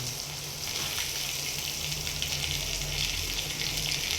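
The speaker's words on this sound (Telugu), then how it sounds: "ఉల్లిపాయలు ఎక్కువ ఫ్రై అవ్వాల్సిన పని లేదు" Onions frying in hot oil for a bread tiffin, a steady close hiss of sizzling that rises slightly after the first half second and holds evenly, with no talking.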